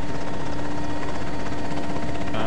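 A helicopter in the Arma 2 military game throbs loudly and steadily up close, its rotor chop and engine whine filling the whole moment without any voices.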